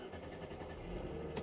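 An old Mercedes with about 500,000 miles and a check engine light on, its engine cranking and straining to start on a mild morning, a low rough labored churn that catches, fairly quiet.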